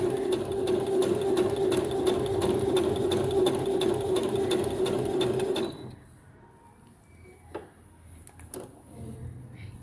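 A Brother CS6000XL sewing machine runs a seam in a steady, close whirring hum for several seconds, then stops, leaving quiet room noise and a few light clicks.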